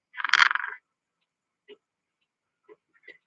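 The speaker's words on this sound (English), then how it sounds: "the old seagulls are making a noise this morning" A short burst of seagull calls up front in the morning, then a few faint, brief chirps spaced out in otherwise quiet air.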